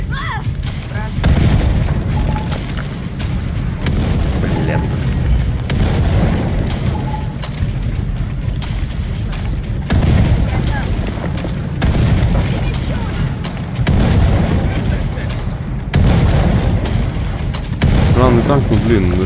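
Tanks explode in the video game Far Cry 6, with repeated loud, deep booms and blasts at intervals of a few seconds, and a voice is heard talking over the battle.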